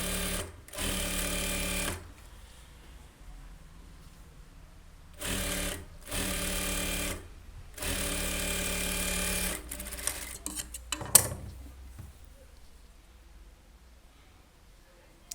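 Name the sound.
sewing machine stitching a blouse lining strip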